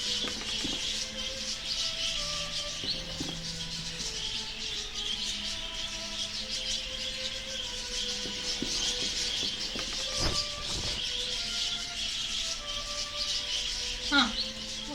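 Quiet birds chirping in the horror adventure game The Last Door, scattered faint tweets over a steady hissing ambience, with a few brief clicks and a sharper chirp near the end.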